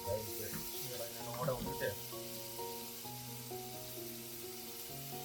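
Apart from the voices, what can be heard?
onion sizzling as it fries in a pan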